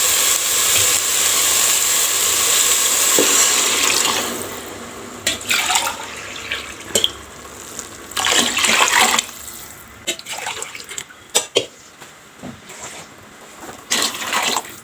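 Water pours steadily into a cooking pot for dry pongal with rice for about four seconds, then stops, followed by scattered clinks and knocks of the pot and utensils nearby.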